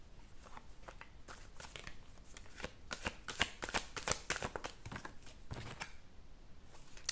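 Oracle des miroirs oracle cards being shuffled by hand, a steady run of dry riffling flicks and soft papery slaps that swell in the middle and trail off, close and fairly quiet with no talking.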